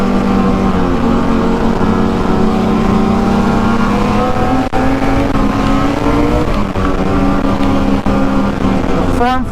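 A Ski-Doo MXZ 600 snowmobile tears across a snowy farm field, its engine a loud, close, sustained drone that wavers slightly in pitch as the throttle shifts.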